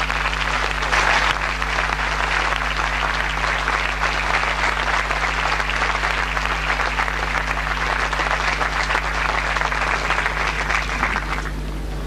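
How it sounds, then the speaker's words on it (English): Sustained audience applause at a university convocation, honoring the parents of the graduating class of 2003; dense, steady clapping from a large crowd continues for about eleven seconds before easing off at the end. "Let us give them a well-deserved applause"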